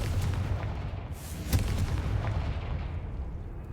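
Confringo spell blasts in Hogwarts Legacy, a fantasy video game, as a dense run of booming bursts with one sharper crack near the middle, loud and continuous over game noise.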